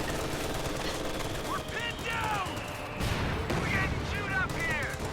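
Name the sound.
howitzer and machine gun fire in a video game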